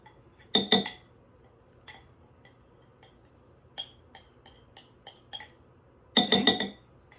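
A utensil scrapes and clinks against a mixing bowl while batter for rainbow sprinkles whoopie pies is cleared out, with two loud bursts of clattering and scattered lighter taps between, close and without talk.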